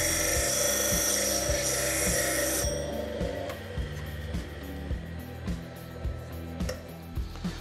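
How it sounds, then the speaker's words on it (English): A diamond lapping wheel on a mini lathe setup hones the tip of a carbide scraping tool, giving a steady high whir with rhythmic low ticking that then drops to quieter intermittent grinding contact. "you just flick it on and give your scraping tool a bit of a touch up."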